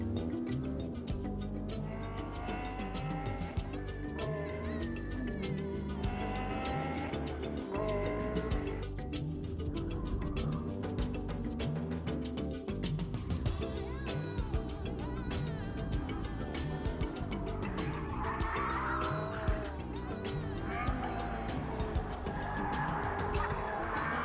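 A 2002 race-bred sports car driven hard on a track: a continuous, strained engine drone with repeated tire squeals and skidding as it corners, heard from fairly close, with no talk over it.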